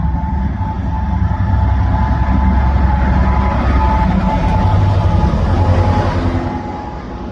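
A Class 66 diesel locomotive creeps slowly through Denton station, a steady low heavy rumble with continuous broadband rail and engine noise holding level throughout, then easing slightly near the end.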